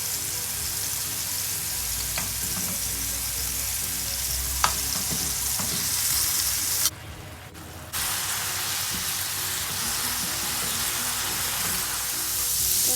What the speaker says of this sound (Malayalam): അതിലേക്ക് നേരത്തെ മാരിനേറ്റ് ചെയ്ത് വെച്ചിട്ടുള്ള ചിക്കൻ ഇട്ട് കൊടുക്കാം